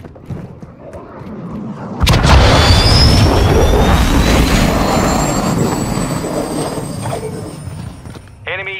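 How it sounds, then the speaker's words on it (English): Cruise missile launch in Modern Warfare II, a sudden loud roaring blast that erupts after quiet rumble, then sustains a jet-like rushing whoosh that slowly fades, ending with a short electronic beep. "Hostiles launched a cruise missile."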